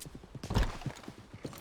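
Horse hooves clip-clop in a brisk, regular rhythm in the video game Red Dead Redemption 2, fairly quiet and close, over a short stretch.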